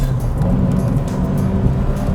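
A Honda Civic Type R engine with a 9,000 rpm redline runs loud and close, a steady, full mechanical drone held for a couple of seconds with no talking.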